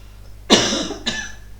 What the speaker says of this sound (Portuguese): Desculpem, eu vou tossir.